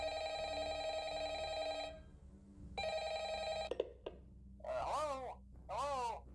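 A telephone ringing in the Five Nights at Freddy's video game, two long electronic rings with a pause between them, then a click and a voice starting to talk.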